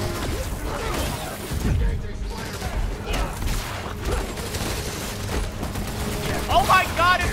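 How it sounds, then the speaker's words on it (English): A tank opening fire on the player in Spider-Man: Miles Morales, with loud bursts of gunfire and booming impacts piling into a dense, continuous battle din, and a voice speaking over it. "is this tank shooting at me right now?"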